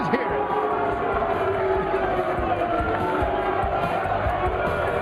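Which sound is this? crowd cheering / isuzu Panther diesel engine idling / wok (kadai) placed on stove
crowd cheering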